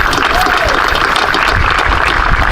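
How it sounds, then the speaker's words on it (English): Crowd at a police department domestic violence walk in Pine Bluff, Arkansas, clapping hands in a dense, sustained round of applause, loud and close. "Let's give God a hand clap"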